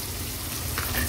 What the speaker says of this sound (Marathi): आता ह्याच्यामध्ये अगदी छोट्या साईजचा एक कांदा घेतलाय तो फोडणीला घालूया